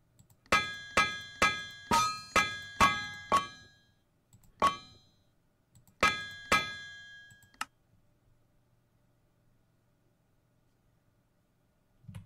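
Metallic clangs of a hammer striking an anvil while smithing in TerraFirmaCraft, a Minecraft mod: a steady run of seven ringing strikes, a lone hit, then a quick trio, each bright and close with a short ringing decay, followed by near silence.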